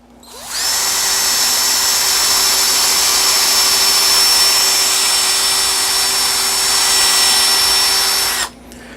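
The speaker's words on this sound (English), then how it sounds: "So we're going to go ahead and just drill this through." A power drill whines loudly and steadily for several seconds as it bores through cabinet wood, then stops abruptly.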